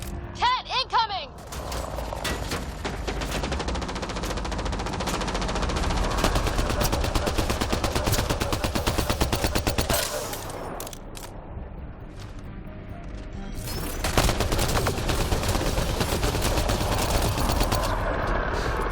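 Enemy machine gun fire in Mass Effect Andromeda during a fight with the Kett: long, rapid, sustained bursts rattle on with a brief lull partway through, with mechanical clatter and a voice heard at the start.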